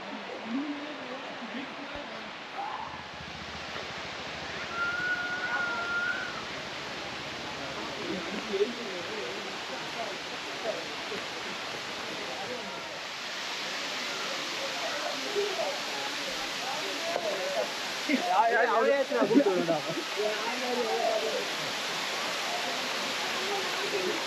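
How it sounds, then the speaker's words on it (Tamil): Steady broadband roar of Chinna Suruli waterfall in Theni, Tamil Nadu, heard from nearby as continuous rushing water, with faint voices and brief scattered sounds over it. "அருவியோட இரைச்சல் சத்தம் இங்கே வரைக்கும் கேட்குதுங்க"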